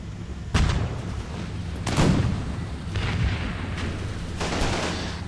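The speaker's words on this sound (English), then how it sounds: "Mortar fire still going down. Now, I've got some machine gun fire coming over here." Mortar and machine gun fire in the Combat Mission video game: several heavy booming blasts and bursts, loud and reverberant, over a continuous rumbling battle din.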